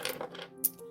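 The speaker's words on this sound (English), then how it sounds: "There, a few buttons, always useful in a little bag." A few buttons dropped into a little bag, giving quick light clicks and rattles with one sharp tap, close and faint.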